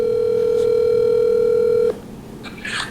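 A phone call to a friend produces a steady, loud ringback or dial tone that holds for about two seconds and then cuts off, leaving faint room noise and a brief voice at the end.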